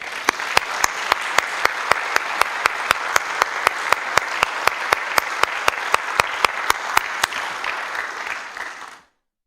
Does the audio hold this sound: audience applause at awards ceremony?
yes